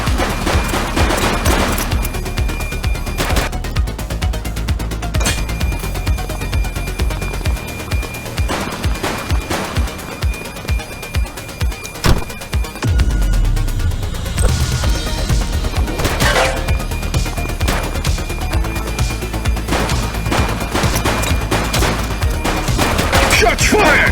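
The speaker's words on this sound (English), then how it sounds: "Shots fired! Suspect is down." Sustained police shootout gunfire from The Precinct video game, with dense automatic bursts and rapid single shots filling the whole stretch, briefly thinning into a staccato run of close shots before the loud firing resumes.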